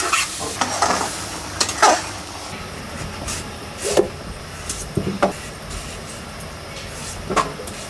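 Loitta fish frying in a modest amount of oil with chili, sizzling steadily while a utensil scrapes and stirs in several distinct bursts, close and clear with no talking.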